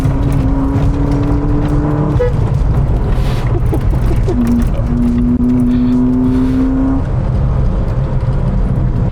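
A Ford Fiesta 1.6 S petrol hatchback with a 100 bhp engine drives on the road, its steady loud engine drone and road rumble continuous throughout, with the engine note rising smoothly through the gears.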